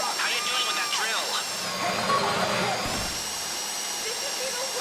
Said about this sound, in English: How you doing with that drill?